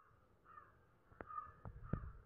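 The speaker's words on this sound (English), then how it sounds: "Parrot." A parrot gives a few harsh, raspy squawks, spaced irregularly and growing louder toward the end, with no talking.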